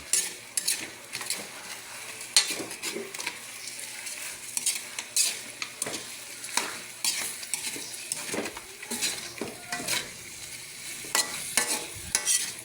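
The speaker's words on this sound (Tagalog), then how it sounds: "naggigisa na tayo" Garlic, ginger and onion sautéed for chicken tinola, with a steady sizzle of frying under repeated scrapes and clinks of a utensil stirring in the pan, close and without talk.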